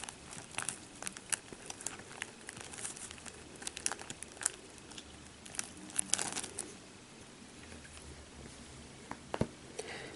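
Quiet, close crinkling and pressing of paper strips being glued in quilling craft for a magnetic horse head, with soft intermittent crackles and taps.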